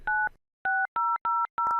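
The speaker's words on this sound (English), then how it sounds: "First dial 514-579-6000 on the outside phone." Touch-tone telephone keypad tones dialing a number: five crisp, close beeps in quick succession, each a steady dual tone separated by short gaps.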